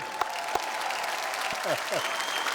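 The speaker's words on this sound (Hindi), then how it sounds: "शक्ति जी के लिए जोरदार तालियां।" Loud, steady applause from a large studio audience at a TV comedy talk show fills the room, with a few sharp claps and a voice briefly heard over it.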